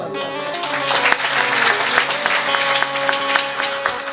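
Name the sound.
audience applause at a katha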